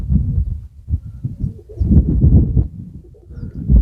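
Pigeons in a home dovecote housing young squabs give low, soft cooing calls in repeated rumbling bursts, close and moderately loud, with no talking.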